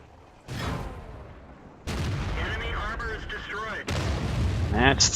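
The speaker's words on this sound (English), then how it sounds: "their artillery missed" Artillery and tank cannon fire in the World of Tanks video game, with a KV-1 heavy tank in battle: several loud booming blasts and rumbling volleys, separated by short gaps, with a voice talking over parts.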